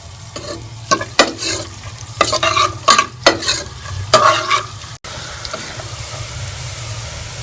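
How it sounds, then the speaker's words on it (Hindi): Oil sizzles steadily in a pan while onions fry and are stirred, with scraping bursts in the first part before settling into a continuous hiss. "इसमें मैं प्याज शामिल कर लूंगी और प्याज को हम हल्का ब्राउन कर लेंगे।"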